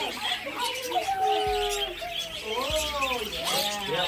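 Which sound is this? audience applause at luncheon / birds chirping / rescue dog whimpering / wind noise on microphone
birds chirping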